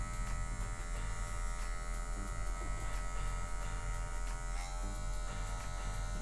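An electric hair clipper set to the high zero guard cuts hair for a medium fade, giving a close, steady, continuous buzz with no talking over it.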